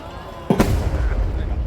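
A firework shell bursts with one sharp boom at the Nagashima Onsen fireworks show, followed by a rumbling crackle that fades under steady crowd and outdoor noise.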